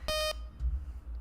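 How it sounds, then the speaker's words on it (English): A single short electronic beep from the video game World of Horror, a bright harmonic tone lasting about a quarter second. It is followed by a low, soft rumble. "Beep."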